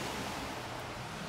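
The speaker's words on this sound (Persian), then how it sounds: "همراه با این صدای زیبای باران" Rain falling in Hollywood, Los Angeles, in winter, a steady, soft, even hiss with no pauses or voices.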